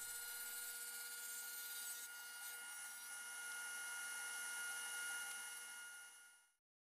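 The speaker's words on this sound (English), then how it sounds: "It's over to the crosscut sled to remove the excess" Table saw on a crosscut sled trimming the ends of a wooden board made from scrap wood, a loud steady high whine with a shifting tone as the blade cuts, then the motor quickly dies away into silence near the end.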